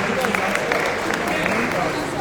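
An audience at a GDSC KWASU TechFest panel session applauds as a panelist walks on stage, with steady clapping mixed with voices talking over it.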